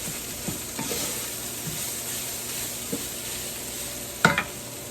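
Flour being stirred into a mixture in a hot pan, a soft sizzle with occasional scraping and tapping of a utensil, one sharper clack near the end, no speech.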